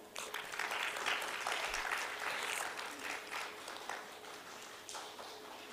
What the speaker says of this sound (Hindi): यह नन्हे मुन्ने फरिश्तों के लिए तो जोरदार तालियां